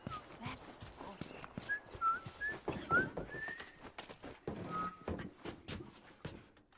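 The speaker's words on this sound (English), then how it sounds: "I'm whistling." A character whistles in The Last of Us video game, a few short, thin rising notes against background game noise and scattered speech.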